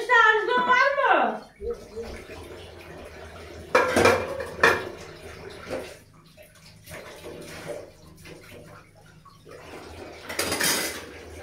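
Dishes, pots and cutlery clatter and scrape during a house cleaning session, with a voice briefly at the start and sharp clinks around the middle and end over running water.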